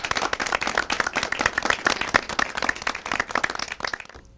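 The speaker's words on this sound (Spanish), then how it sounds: "Un aplauso para esta hermosa pareja." Applause from a studio audience for a reconciled couple on a Spanish-language talk show, a steady run of clapping that carries loud for about four seconds, then cuts off abruptly near the end.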